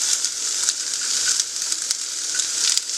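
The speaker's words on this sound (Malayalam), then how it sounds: "ഇനി നമുക്ക് സവാളയും കൂടി ഇട്ട് നല്ലോണം ഒന്ന് വഴറ്റിയെടുക്കാം." Sliced onions sauté in a hot pan for wheat dosa, giving a steady, close sizzle and crackle throughout with no voices.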